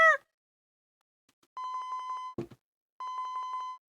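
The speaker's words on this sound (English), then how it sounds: "Suddenly his phone rang, nearly startling him out of his seat." A mobile phone rings in the Shibuya-set video game 428: Shibuya Scramble, sounding twice as a pulsing electronic ring tone separated by a brief thud, clear against silence.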